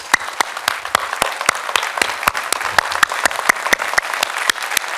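An audience claps at an Indian tour event, a dense, continuous burst of applause with sharp individual claps standing out, loud and sustained for the whole stretch.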